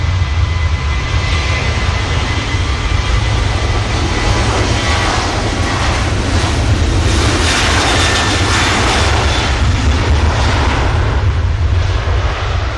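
An airliner at Manchester Airport, a Pegasus flight, produces a loud, steady, broadband jet engine roar that holds nearly constant throughout, with no talk.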